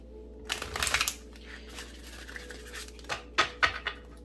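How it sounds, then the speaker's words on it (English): Tarot cards riffle and slide in short bursts, a quick shuffle near the start and a few crisp flicks and snaps toward the end, close and quiet. "I just shuffled the cards"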